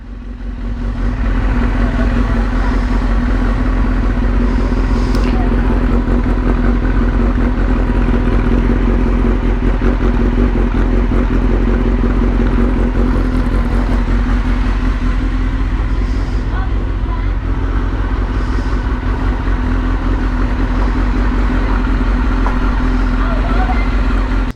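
A Suzuki GSXR motorcycle engine cranks on the starter, catches and runs at a loud, steady idle with a mechanical clatter, close by and continuous throughout.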